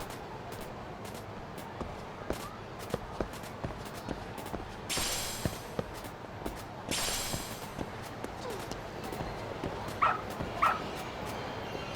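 A dog in the video game Lost Judgment barks in short sharp yips and lets out brief whimpers, scattered across a low background with a few louder bursts.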